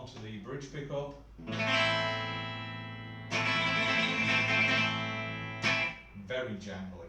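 A 1994 Fender CIJ Jazzmaster electric guitar on its bridge pickup gives bright, jangly strummed chords, with a few short hits followed by two long, sustained ringing chords that fade before a quick final strum.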